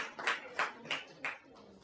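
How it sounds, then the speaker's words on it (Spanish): Four slow separate claps at a church gathering on evangelism, evenly spaced and fairly close, from a few hands rather than a full crowd. "Démosle un aplauso a nuestros evangelistas"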